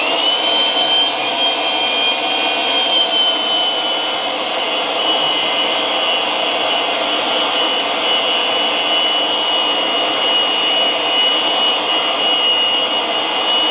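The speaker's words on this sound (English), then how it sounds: "So we're going to go ahead and press this switch and start threading." A BLUEROCK Power Drive 300 pipe threading machine runs while threading pipe, a loud, continuous motor whine and grinding hum held steadily for the whole stretch with no talk.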